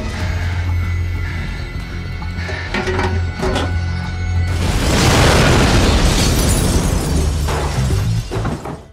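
An ambulance blows up in an American emergency-rescue TV drama: after a low rumbling lead-in, a loud, close explosion bursts out around the middle and rolls into a long roar of crashing, scattering debris before fading.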